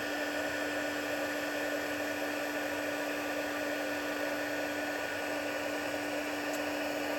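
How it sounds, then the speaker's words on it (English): Heat gun running to melt embossing powder for paper cards, a steady loud blowing hiss with a constant whine, unbroken and close throughout. "And my heat gun, which make a bit of a racket for a minute."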